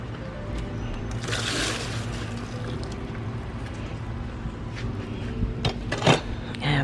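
Excess water poured out of a fancy bowl holding a small potted rose bush, a close, faint trickle and splash over a low indoor hum, with a few louder splashes near the end.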